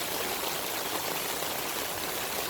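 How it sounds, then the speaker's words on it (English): Floodwater on Mulberry Street draining into a backed-up section, heard as a steady, close rushing trickle of flowing water with no voices. "As you can see, the water's draining right here,"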